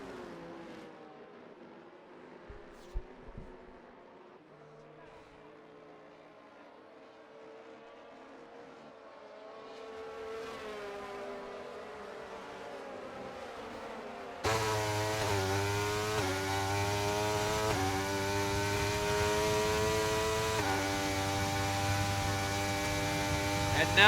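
Race cars in F1 23 accelerate off the start at Brazil, a quiet hum building into a sudden loud, layered roar of multiple engines rising in pitch together, close and sustained to the end.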